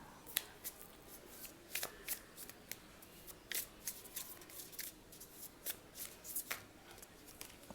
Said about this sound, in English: So I'm just arranging these cards.